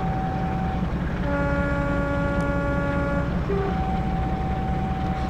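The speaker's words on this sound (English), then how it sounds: "Give it a hooter." Two-tone horn of a Class 45 diesel locomotive in Train Sim World's TransPennine route, a steady sustained chord of about two seconds with a short second blast after it, heard over the constant low rumble of the engine.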